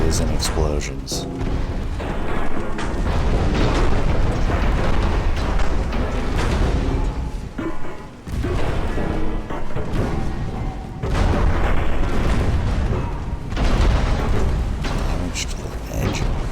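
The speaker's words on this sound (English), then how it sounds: "Nothing but ricochets and explosions." Naval gunfire in the warship game Ultimate Admiral: Dreadnoughts, with continuous loud booming explosions and ricochets layered densely for the whole stretch, plus a brief dip in the middle before the barrage resumes.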